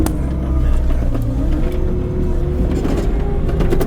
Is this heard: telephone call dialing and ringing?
no